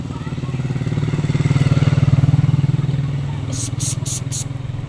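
A motorcycle engine drones close by, its pulsing rumble rising then easing as it passes, with voices chattering over it.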